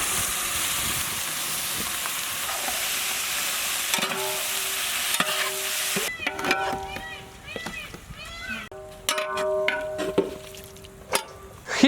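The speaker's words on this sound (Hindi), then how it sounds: "जिंजर और गार्लिक ऑयल में थोड़ा सा फ्राई होते ही हम लोग इसमें मटन खीमा ऐड करेंगे" Mutton keema fries in ginger garlic oil with a steady sizzle, then a spoon stirs and scrapes the pan while a voice talks over the cooking.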